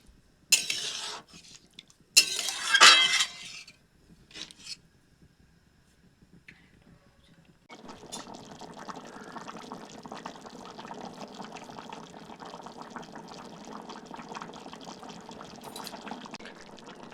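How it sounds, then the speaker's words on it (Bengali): Water is poured into a pot of new-potato curry on a home stove, with short splashing bursts and clinks of utensils against the pot, then a steady low simmering bubble from the pot that runs to the end. "জলটি দিয়ে ভালো করে মিশিয়ে এটিকে আলুগুলি সেদ্ধ হওয়া পর্যন্ত ফোটাতে থাকবো।"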